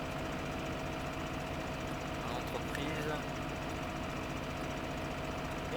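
A tractor engine in Farming Simulator 15 runs at a steady, constant drone throughout, fairly close, with someone speaking over it.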